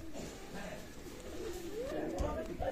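Pakistani high-flyer pigeons at a pigeon loft give low, rolling coos over steady background noise, with a faint voice underneath and a longer coo swelling near the end.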